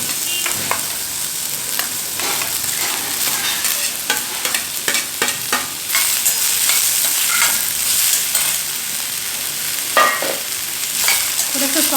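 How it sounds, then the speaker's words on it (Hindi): Onion and broccoli sauté in a pan while cooking homemade pasta, a continuous close sizzle punctuated by frequent scraping stirs and clicks of the utensil against the pan. "थोड़ा सा सौटे कर देंगे सब्जी को।"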